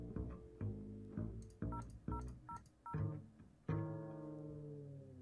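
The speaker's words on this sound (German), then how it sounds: "Wir können hier irgendjemanden anrufen." Telephone keypad tones sound in a room escape game set in an office, a series of short separate beeps in an uneven rhythm followed by a longer sustained tone, clear and alone.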